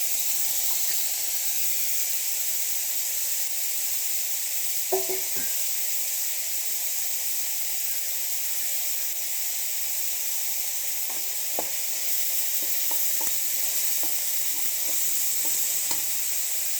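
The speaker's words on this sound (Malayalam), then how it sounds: "അത്രയും കൂടി ഇട്ട് വഴറ്റിയെടുക്കുക. മൂപ്പിക്കേണ്ട, നന്നായിട്ട് വഴറ്റിയെടുക്കുക." Onion sautéing in a pan for rava upma, a steady soft sizzle running throughout with a few scattered spoon scrapes and taps, fairly close and even in level.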